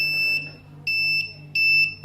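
An Arduino buzzer triggered by an ultrasonic distance sensor sounds three steady, clear electronic beeps close by, each held about a third of a second with short gaps between them, over a faint low hum.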